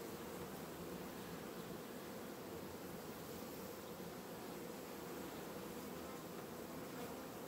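A honeybee swarm that has returned to its hive buzzes in a dense, steady drone of many bees, close and continuous throughout, with no voices.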